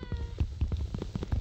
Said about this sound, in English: Is that a cat? Is that an ocelot or something?